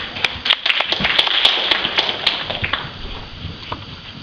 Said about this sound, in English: So please give applause for her.